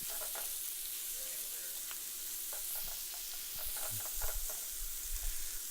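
Food sizzles and fries steadily in a pan over a gas flame at medium heat, with a constant bright hiss and occasional scraping stirs and small clatters, loudest toward the end.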